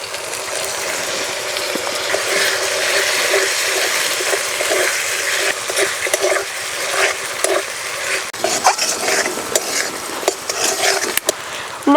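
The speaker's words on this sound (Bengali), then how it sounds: "মশলা একটু ভেজে নিয়েছি" Ground spice paste of coriander, cumin and chili fries in a pan for a puti fish curry. A dense, hissing sizzle runs throughout, and toward the end there are scattered scrapes and clinks from a utensil.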